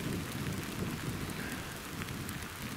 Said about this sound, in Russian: у нас пошел дождь